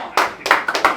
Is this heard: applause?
yes